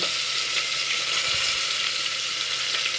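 Potato, onion and peanuts frying in hot oil for a quick tempered khichdi, a steady bright sizzle close by with faint stirring scrapes, no voices.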